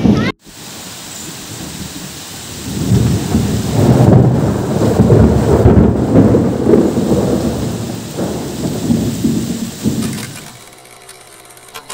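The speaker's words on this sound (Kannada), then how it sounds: "ಸಿಡ್ಲು ಬರ್ತಾ ಇದೆ." Thunder rolling through a rainstorm, a loud sustained low rumble swelling over several seconds and fading out, with rain hiss underneath.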